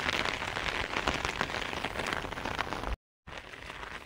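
Steady, dense rain pours down beside a river, a continuous hiss of drops striking surfaces at close range, broken by a brief gap of silence near the end before the downpour resumes.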